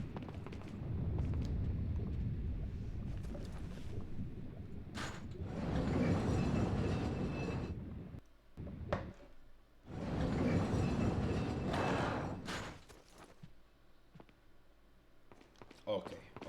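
Mine cart ride in Resident Evil 4, a rumbling, rattling roll along rails with surging louder stretches and clunks between them. Someone talks over part of it.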